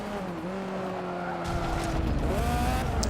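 A race car in Forza 7 roars with a sustained engine drone that rises in pitch while tires squeal and skid through a corner, loud and close with no talk over it.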